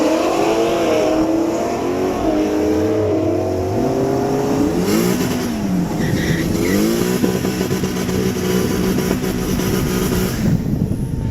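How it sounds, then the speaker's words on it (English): A 1995 Ford Mustang GT convertible with a 5-liter V8 revs and accelerates hard, its engine note rising and falling loud and close throughout, with no talking. "Next up, we have a 1995 Mustang GT convertible with a 5-liter V8."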